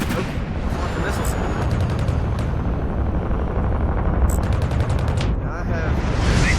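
Missile volleys fire in the space combat game Fractured Space, a dense roaring rush of launches with sharp crackling bursts layered over a constant engine rumble.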